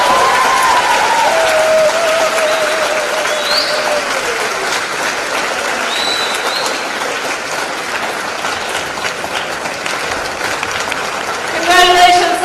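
An audience at a doctoral graduation ceremony breaks into sustained applause, a dense loud wash of clapping that holds steady and swells near the end, with brief voices and tones over it.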